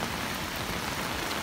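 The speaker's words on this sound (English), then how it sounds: "the rain is coming down really hard" Heavy rain pours onto a heavy-duty Crown Coast umbrella canopy, a dense, loud, unbroken roar of drumming drops close overhead, with no voices.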